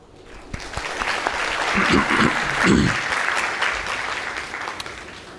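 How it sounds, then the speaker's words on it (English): A conference audience at a forum applauds to welcome a speaker onto the stage. The clapping builds to a full, dense round, then gradually thins out over several seconds, with a few voices faintly audible underneath. "Everyone, please welcome Navin Sabadrai on stage with a round of applause."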